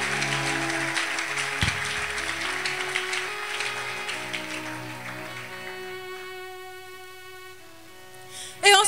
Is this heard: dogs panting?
no